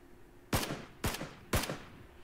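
Three sharp gunshots from a weapon in PlayerUnknown's Battlegrounds, evenly spaced about half a second apart, each a loud crack with a short decaying tail, no voices.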